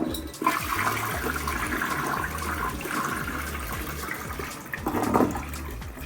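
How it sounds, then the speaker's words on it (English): A Pro Flow toilet flushing in a hotel bathroom, a close rushing gush of water that swells and drains over several seconds, ending in a softer refill trickle. "It's a Pro Flow. Let's make sure it flushes properly."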